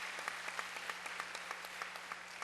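A church gathering's audience applauds, a steady, fairly faint patter of many hands clapping with distinct individual claps standing out, no talking over it.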